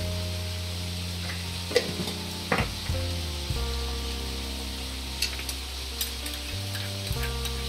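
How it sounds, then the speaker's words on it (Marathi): Chicken schezwan fried rice is stirred in a hot pan: a steady sizzle runs throughout, broken by a few sharp scrapes and clanks of the spatula against the metal. "सारखं हलवत राहायचं आहे।"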